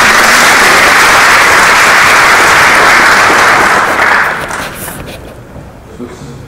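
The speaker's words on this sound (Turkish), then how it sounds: "Hadi alkış alkış." Loud, dense applause from an audience in a meeting hall, filling the first four seconds before fading off to quiet room tone.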